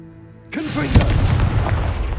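A Confringo blast spell goes off in Hogwarts Legacy, down in the Undercroft: a sudden loud boom after a quiet moment, followed by a dense, sustained rumbling roar that stays strong to the end, with a brief vocal sound near the start.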